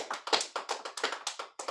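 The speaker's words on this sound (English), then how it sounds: "Let's give God a hand clap of praise for this child." A church congregation at a candlelight Christmas communion claps hands in praise, a quiet, fairly even run of about a dozen quick, slightly ragged claps with no talk over them.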